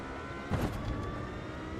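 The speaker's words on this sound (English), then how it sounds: "I just heard a car. Okay, someone just came out of the pits." A race car in Automobilista 2 pulls out of the pits at the Nürburgring Nordschleife, its engine note swelling suddenly at mid-clip and then holding as a steady, moderately loud drone.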